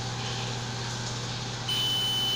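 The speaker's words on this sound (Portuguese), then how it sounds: "Ponta preta do multímetro num polo e a ponta vermelha no outro polo. Ele tem que bipar" A multimeter sounds a steady continuity beep while its probes test a fuse on a motherboard with faulty USB ports, a constant tone that runs through the whole moment and strengthens near the end, with no one talking.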